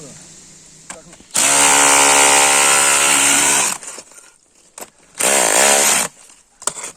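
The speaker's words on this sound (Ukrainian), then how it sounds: "Ну, Ось так працює цей перфоратор." A Worcraft CRH S20LiT cordless rotary hammer drill whines loudly in two bursts, a long run then a shorter one, with a steady high-pitched motor drone and quiet gaps between.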